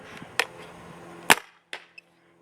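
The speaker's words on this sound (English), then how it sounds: "we'll just shoot two more to show you that" A Pooty Ego Bolt paintball marker fires two sharp, loud pops about a second apart, followed by a softer click and a faint tick in an otherwise quiet space.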